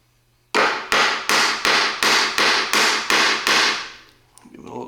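Steady hammer blows ring on a stuck part of a rare Detroit Diesel 1-71 GM engine, eight sharp even strikes in a loud close series that fades away at the end.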